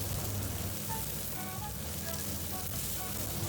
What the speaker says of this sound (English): Now I'm adding in half onion wedges to stir fry together